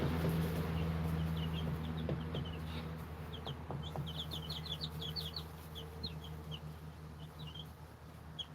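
Chickens clucking and chirping in a flock close by, many short overlapping calls scattered throughout over a steady low hum, with no talk.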